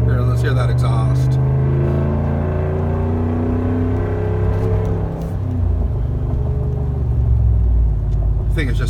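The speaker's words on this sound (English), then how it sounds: "let's hear that exhaust" A 2017 Ram 1500 Big Horn pickup idles with a deep, steady exhaust rumble close to the microphone, holding an even drone with a slight dip midway and no talk over it.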